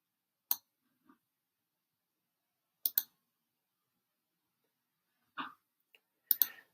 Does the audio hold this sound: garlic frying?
no